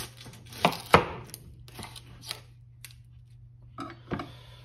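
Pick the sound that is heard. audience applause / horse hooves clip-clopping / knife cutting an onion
knife cutting an onion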